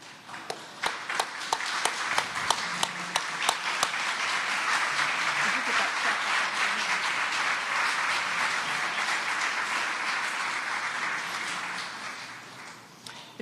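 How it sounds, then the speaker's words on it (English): A group applauds scholarship recipients at a golden anniversary gathering, steady clapping from many hands that swells quickly and holds for over ten seconds before tapering off, with a few sharper individual claps early on. "a group applause to thank you for your great talent"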